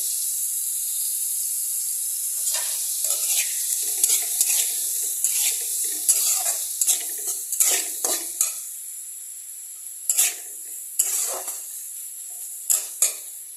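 A spoon stirs ginger paste as it fries in a pan over a constant bright sizzle, with irregular scraping knocks against the pan in bursts, close and loud.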